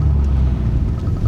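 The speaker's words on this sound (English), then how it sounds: "This exhaust is so impressive." Deep, loud exhaust rumble from a modded turbocharged Ford Mustang EcoBoost, a steady low throb heard close up for just over a second, with no voices.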